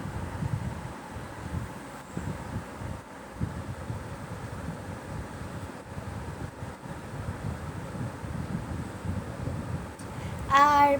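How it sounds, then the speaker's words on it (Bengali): Strong wind of a small Kalbaishakhi storm buffets the microphone with a steady low rumble and gusty roar throughout, with a brief brighter burst of sound at the very end. "অনেক জোরে বাতাস হচ্ছিল আর"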